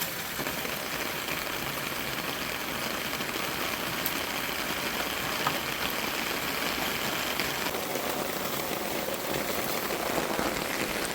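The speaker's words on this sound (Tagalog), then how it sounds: "Ulan guys, maganda kapag mag-ulan." Steady rain pours down, a dense even hiss with a low rumble underneath, continuous and fairly loud throughout with no voices.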